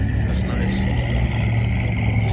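Camaro engine idling as it warms up at a car show, a loud steady low rumble with constant exhaust drone and no clear revs.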